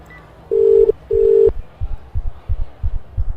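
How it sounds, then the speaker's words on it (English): A phone call connects after the green call button is pressed: two steady ringback tones sound in succession, followed by a run of soft low thumps, with no one talking. "I press the green little phone button."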